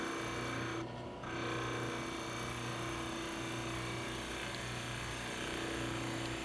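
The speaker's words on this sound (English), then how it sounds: "If you're having difficulty making this cut with the skew, you can try using a spindle detail gouge." A skew chisel cuts a wooden Christmas ornament spinning on a lathe, giving a continuous loud rasping whir over the motor's steady hum, with a brief break near the start.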